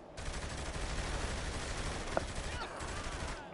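SMG in The Hood 2, rapid continuous automatic fire crackling loud and dense for a few seconds, with a voice faintly mixed in under the shots.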